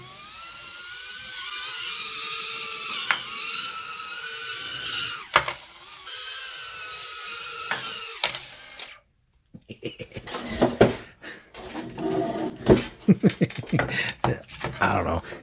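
Tiny BetaFPV Lite 2 micro drone motors whine at high pitch for about eight seconds, cut out, then rev in short uneven bursts nearby, with no talk.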